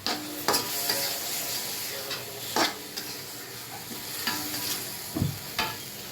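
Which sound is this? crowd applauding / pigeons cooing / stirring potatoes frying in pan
stirring potatoes frying in pan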